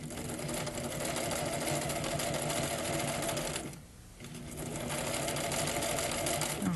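Sewing machine stitching fabric in a steady rapid whir, briefly slowing and pausing near the middle before running on again, close and continuous with no voices.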